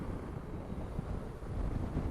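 Wind buffets the microphone on the North Antrim Coast in winter, a low steady rumble with gusts rising and falling throughout.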